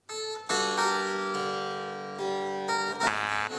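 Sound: classical music, an Allemande by Henry Purcell

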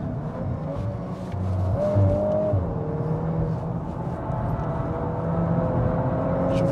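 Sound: 2022 Volkswagen Golf R accelerating on Dubai Autodrome track

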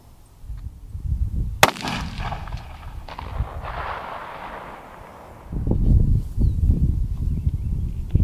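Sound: rifle gunshots at target practice, 200 yards

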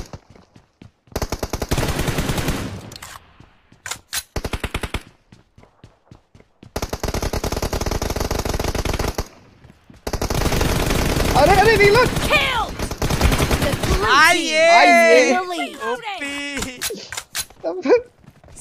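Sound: gunfire in a shooter video game

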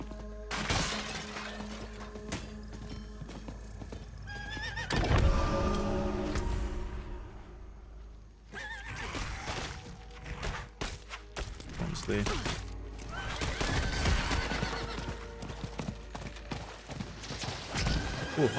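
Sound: horse galloping and neighing in video game Diablo IV

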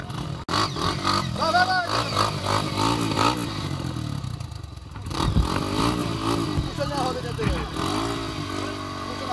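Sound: dirt bike engine revving while accelerating on a trail

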